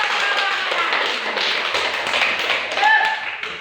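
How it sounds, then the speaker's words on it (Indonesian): A classroom of students claps for a group after its presentation, a dense patter of hands with some voices mixed in. "kita tepuk tangan dulu untuk kelompok"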